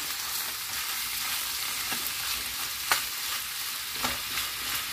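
Ground beef frying in a pan and being broken up, a steady close sizzle with a few sharp scrapes and taps of the utensil against the pan.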